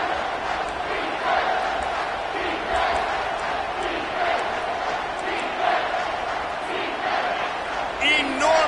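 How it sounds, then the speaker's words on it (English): A packed football stadium crowd at Pitt vs Clemson roars loudly on third down, a sustained wall of cheering and yelling with rising whoops, carrying on without pause. "this crowd is bringing down the house"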